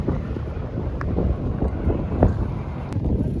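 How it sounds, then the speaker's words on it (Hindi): Strong wind roars and buffets steadily against the microphone on an Istanbul ferry deck in the rain, a constant rumbling rush with no voices. "और फुल तेज़ हवा है"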